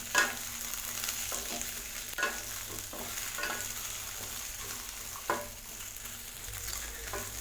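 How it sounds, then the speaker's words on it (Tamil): Okra pieces sautéing in sesame oil in a pan, a steady close-up sizzle with occasional stirring scrapes and clacks over a faint background hum, no voices. "வெண்டைக்காய் பாருங்கள் நல்லா எண்ணெயில் வதங்கிருச்சு."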